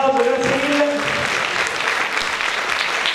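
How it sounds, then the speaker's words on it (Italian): Theatre audience applauding at an event at Teatro Verdi in Gorizia, a dense steady clapping throughout, with a few voices briefly audible at the start. "un applauso, grazie mille."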